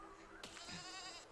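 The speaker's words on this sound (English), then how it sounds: "Why are the sheep attacking me?" Angry sheep in the physics building game Besiege let out one loud wavering bleat that starts sharply and holds for about a second over a steady game hum.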